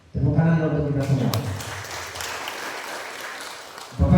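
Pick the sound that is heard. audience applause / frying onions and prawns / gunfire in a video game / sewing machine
audience applause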